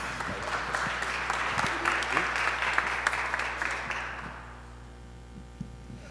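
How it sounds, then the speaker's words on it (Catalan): An audience at a game presentation inside a church in La Seu d'Urgell gives a round of applause, many hands clapping steadily for about four seconds before fading out over a low steady hum. "Un aplaudiment pel Litus."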